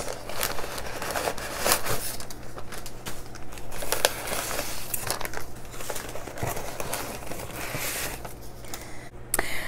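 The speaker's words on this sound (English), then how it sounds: "Alright, a lot of paper going on here." Packing paper is crumpled and crinkled up close while fish that arrived well packed are unwrapped, a sustained crackling rustle with sharper tearing bursts and no speech.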